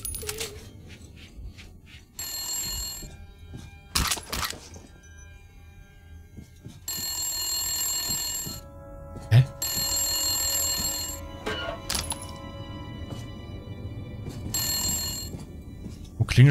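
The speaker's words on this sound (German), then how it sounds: "Ach, das ist ein Metalldetektor" Electronic metal detector in the video game Metro Last Light, sounding as repeated bursts of high, ringing beeps in several spaced groups, like an old telephone bell, over dim game ambience and low rumble.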